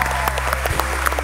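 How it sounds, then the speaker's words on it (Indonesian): Studio audience applause on an Indonesian television talk show, greeting police officers from a special unit. It is a brief burst of scattered, fairly sparse claps over a steady low background hum. "Tepuk tangan bapak-bapak."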